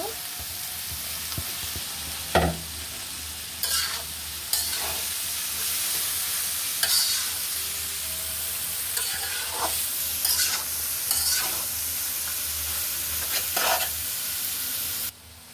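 Vegetables for pasta hiss and crackle in a hot pan, stirred with a spatula that scrapes and knocks at irregular intervals, close and loud over a constant sizzle, no speech.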